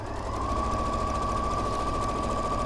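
A sewing machine runs a steady seam along the long edge of a fabric strip, a continuous close whir with a constant hum, no voices.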